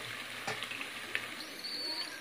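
Pieces of chicken 65 deep frying in hot oil give off a soft, continuous crackling sizzle, fairly faint, with a few sharper pops rising above the steady hiss.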